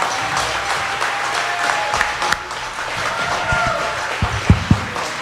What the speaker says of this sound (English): So I think they deserve an extra round of applause.